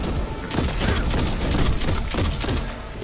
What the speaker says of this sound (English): Oh, you're shooting me. I don't like when you shoot me.